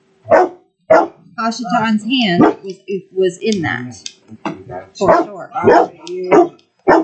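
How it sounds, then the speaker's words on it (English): A dog barks repeatedly indoors, sharp loud barks interrupting and overlapping a man's steady speech throughout. "I apologize for the barking."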